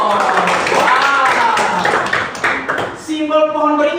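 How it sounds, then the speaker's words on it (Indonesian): In a primary-school classroom lesson, children clap their hands in a short burst of scattered claps. A teacher's voice speaks over and after them, and the clapping stays brief and mixed with talk. "Tepuk tangan untuk ketua kita dong."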